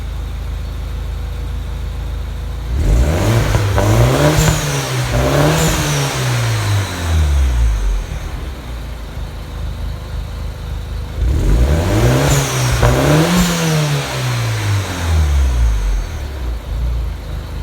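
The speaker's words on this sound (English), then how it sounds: "but I'm going to rev it up a little bit." A 2009 MINI Cooper S turbo engine with an idle problem revs twice, each time climbing and falling back, loud and close with a steady idle between the revs and no talking.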